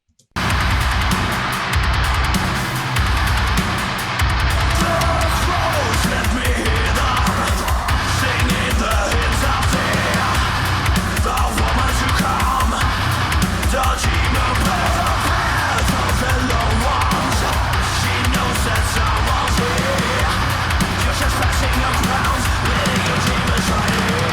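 A metal song plays loud and dense from start to finish, with heavy distorted guitars and chugging drum patterns driving on without letup.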